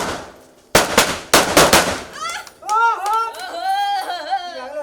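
Two quick bursts of loud, sharp firecracker cracks and pops go off close by during Diwali, followed by excited voices shouting.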